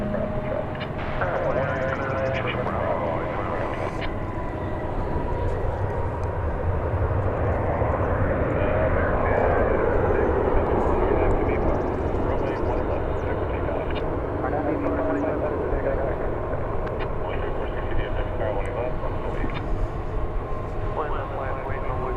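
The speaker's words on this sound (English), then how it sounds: "From Albuquerque comes this 737-800, American" An American Airlines Boeing 737-800 passes at an airport, a continuous jet roar with a sweeping pitch shift midway as it goes by, while a voice talks intermittently over the noise.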